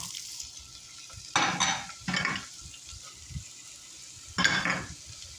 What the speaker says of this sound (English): But we're going to saute these vegetables first.